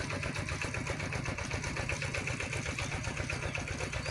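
Old engine of a water pump running steadily and close, a continuous chugging idle with a fast, even mechanical pulse and no talking.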